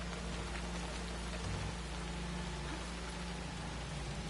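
Rain falls steadily in the video game Assassin's Creed Shadows, a dense, even hiss of heavy downpour that fills the scene with no voices over it.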